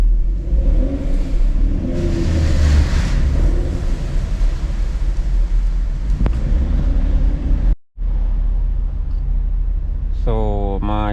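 Twin-turbo Ford Mustang with a spark blow-out problem drives off with a loud rumbling engine that rises and falls, cuts out briefly, then returns as the car moves along.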